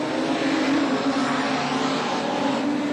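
Production sedan race cars roar around Carina Speedway in a continuous, loud, dense engine drone from a pack of cars, steady throughout with no pauses.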